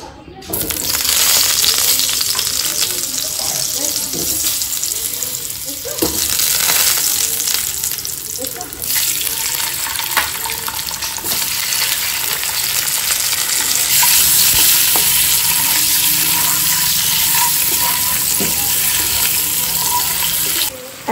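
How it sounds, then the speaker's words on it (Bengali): Eggs being fried and stirred with masala in a pan for a lunch dish give a steady sizzle throughout, broken by scraping and clinking stirs, with no one talking. "তো ডিমটা প্রথমে কষিয়ে একদম রেডি করে নেবো"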